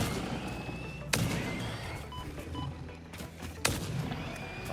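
Gunfire in the video game Satisfactory: two sharp, loud shots several seconds apart over a steady bed of game ambience, with no talking.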